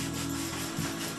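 Small wooden boards for dominoes being sanded by hand in a workshop, giving a steady, continuous scraping rub that stays close and even throughout, with no talking.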